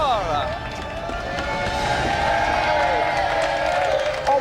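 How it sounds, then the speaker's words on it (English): A studio audience claps and cheers for guests on a television game show, a steady, sustained wash of applause heard alongside a host's voice and background music. "have another round of applause for our special guest,"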